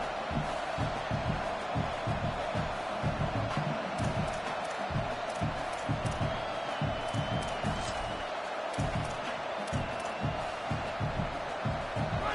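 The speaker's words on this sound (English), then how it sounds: "the crowd gets behind this defense" A football stadium crowd roars in a steady, dense wall of cheering behind the defense at a Michigan vs Arizona State game, loud and continuous throughout with no break.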